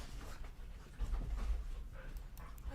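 A puppy pants in quick, soft breaths close by, with a slightly louder burst of panting midway and a faint whimper; no talking.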